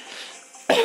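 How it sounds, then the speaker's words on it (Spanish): A single short, harsh cough bursts out near the mic from someone with a cold, preceded by a moment of faint background hiss. "Todavía tengo tos, todavía tengo gripa."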